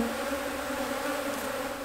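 A close, steady drone of many honeybees buzzing around an opened nuc hive in spring, dense and continuous with no talk.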